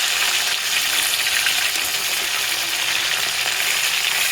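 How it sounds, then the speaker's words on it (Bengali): French fries, just flipped, fry in hot oil with a dense, even sizzle that crackles loudly and steadily throughout. "এখন উল্টে দিচ্ছি, আর এক পাশ ভাজার জন্য উল্টে দিচ্ছি"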